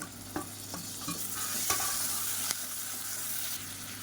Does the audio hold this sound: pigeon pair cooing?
no